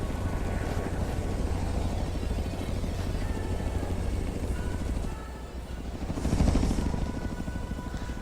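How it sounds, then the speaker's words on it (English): Helicopter flying through freezing, icy weather in the video game Forza Horizon 3, a steady rotor and engine drone that holds for the whole stretch, dipping briefly and then swelling again near the end. "This seems like some pretty extreme icing conditions to be flying a helicopter in."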